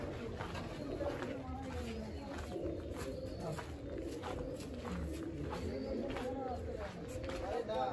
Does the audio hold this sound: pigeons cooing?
yes